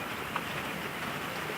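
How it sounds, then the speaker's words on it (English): Rain drumming on a metal roof over a front porch during prolonged wet weather, a dense, even hiss of drops that stays steady and fairly soft with no speech. "I know you're hearing the rain up on the metal roof because I'm on my front porch"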